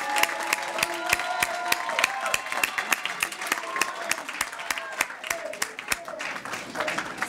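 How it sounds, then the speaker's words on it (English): A graduation audience at a Western Technical College GED/HSED ceremony applauds steadily through the clip: dense, sustained clapping from a large crowd in a hall, with sharp louder claps standing out over the general roar. "give a round of applause to everybody that's here"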